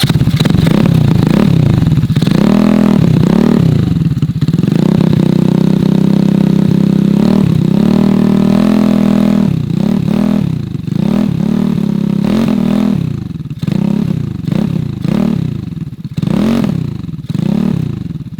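A Yamaha R1 with an aftermarket exhaust revs loudly and close, throwing out repeated throttle blips and rising roars over a rumbling idle, louder and choppier toward the end.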